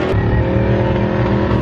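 A race truck's engine revs hard and loud after a missed shift, holding a steady, strained drone close up with no talk over it.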